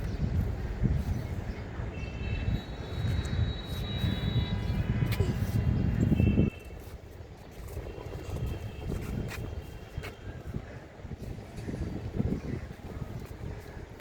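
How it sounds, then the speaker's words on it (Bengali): Strong wind buffeting a rooftop garden, a heavy rumbling roar that is loud for about six seconds and then drops to a softer gusting, with a voice speaking over it. "ও হো সাথে বাতাস অনেক বাতাস"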